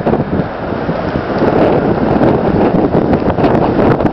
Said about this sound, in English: I'll have to talk a little loud. The wind's blowing.